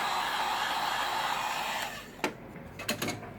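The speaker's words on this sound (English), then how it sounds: "you can use a heat gun to heat it up from here" A heat gun blows hot air onto the adhesive behind an iPhone 8 home button, a steady close whoosh that cuts off after two seconds, followed by a few small clicks.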